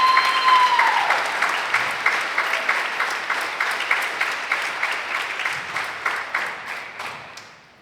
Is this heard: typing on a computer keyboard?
no